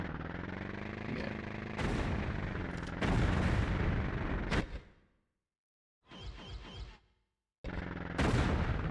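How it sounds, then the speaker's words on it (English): Gunfire in Tomb Raider: The Last Revelation on PS1: loud, blunt blasts in long bursts, cut off by short silences, with a quieter rattling stretch before the firing resumes. "Who is shooting at me?"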